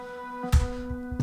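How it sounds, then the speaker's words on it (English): Acoustic guitar from a software plugin with an equalizer trimming the lows and highs, a sustained tone with a couple of soft plucked attacks, heard alone and fairly quiet. "the equalizer is like cutting the lows and the highs."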